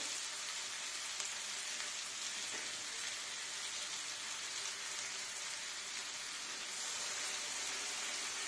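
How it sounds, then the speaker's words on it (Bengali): A pan of fish sizzles steadily after a little water is added, a constant soft hiss and crackle of frying that stays fairly faint and even throughout. "এবার আমি অল্প একটু জল দিয়ে দেব।"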